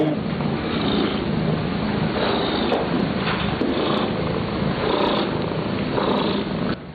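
A cat purrs steadily and continuously, close and fairly loud, with a rough rhythmic rumble throughout and no talking.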